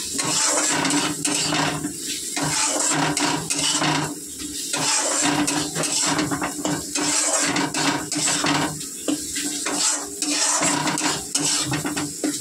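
A spice masala being fried down in a pot at home, with continuous close sizzling and frequent metal spoon scrapes and clanks against the pot throughout.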